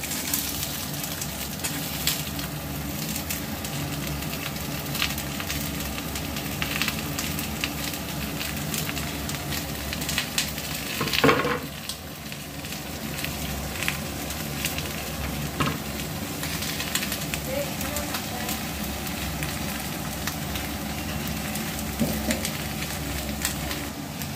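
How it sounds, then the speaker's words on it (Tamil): Chopped onions, with tamarind, fry in a pan and get stirred, a steady bubbling sizzle with scraping strokes and one louder clatter near the middle. "வெங்காயத்தை போட்டு நல்லா வதக்கிக்கோங்க"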